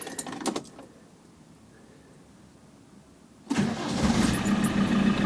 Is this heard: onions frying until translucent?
no